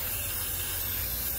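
Continuous hard hiss of spray cleaner blasting into the carbon-fouled intake ports of an Audi 4.2 V8, a close, loud, unbroken spray with no talking.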